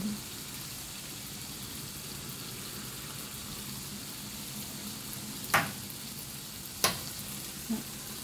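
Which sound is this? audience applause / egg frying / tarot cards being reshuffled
egg frying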